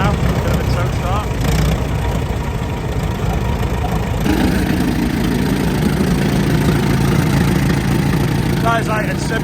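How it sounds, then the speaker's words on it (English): An old engine idles steadily at a tractor fest, a continuous mid-low rumble with faint knocking, nearby and loud, with crowd noise and voices talking over it. "Oh, the motor's running now."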